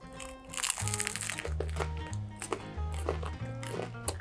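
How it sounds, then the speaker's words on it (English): Close, crisp crunches of someone biting and chewing a crusty vegan hot dog bun, several bites in a row with a gentle background hum. "The bread is crunchy"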